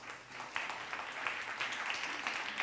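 An audience at a startup scaling event applauds a panelist from the Wayra Spain team walking onto the stage; moderate, continuous clapping from a crowd, fairly even in loudness, with no voices over it.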